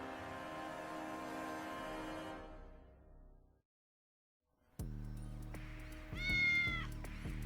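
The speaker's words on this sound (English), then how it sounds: "No, Smudge is my cat." A house cat lets out a couple of drawn-out, rising and falling meows, close and fairly loud, after a stretch of other sound and a brief silence.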